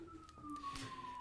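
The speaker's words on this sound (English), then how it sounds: "That's the too much time siren." A brief siren sound effect signalling too much time, a thin steady wailing tone held for about a second, faint and alone.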